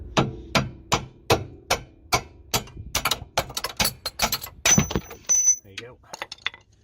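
Hammer blows tap the nut on a car's brake caliper while brake discs and pads are replaced in a driveway: about ten sharp, evenly spaced metallic strikes, then a quicker irregular burst of clinks and knocks, close and loud.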